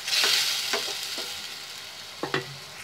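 Egg curry masala with boiled potato simmers and sizzles in a pan over medium flame after water is added, with a steady bubbling hiss and several distinct spoon scrapes and stirs against the pan.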